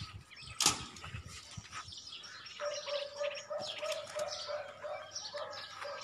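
Pigeons released from a rooftop at the start of a flying tournament, wings flapping in a sharp burst followed by scattered chirps and faint background noise, fairly quiet overall.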